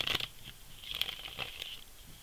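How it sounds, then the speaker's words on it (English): A tarot deck being shuffled, with soft papery riffles and light card taps that are quiet and close, broken by short pauses and heard without talk. "One more shuffle."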